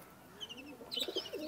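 A pigeon coos softly a few times in a quiet enclosure, faint and brief, with light chirping mixed in.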